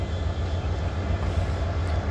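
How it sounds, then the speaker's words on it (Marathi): An inspection train, ten coaches long, arrives at Beed station as a heavy low rumble of wheels and engine, steady and loud across the short span. "बघा ही ट्रेन आलेली आहे"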